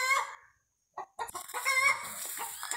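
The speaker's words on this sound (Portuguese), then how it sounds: "As galinhas estão danadas cantando." Chickens on a rural Brazilian farm during a pumpkin and papaya harvest cluck in short bursts, then several birds crow and cackle together, fairly close and lively.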